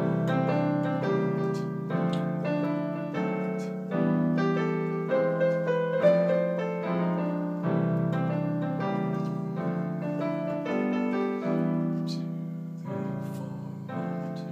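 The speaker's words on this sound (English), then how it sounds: "closed position 7ths, or closed position 4-note chords." Piano plays a steady sequence of full, closed-position seventh chords, each struck firmly and changing every half second or so, with no talking.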